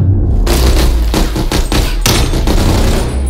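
Heavy gunfire in a video game shooter, a loud and continuous barrage of overlapping shots and booms that stays close and dense throughout.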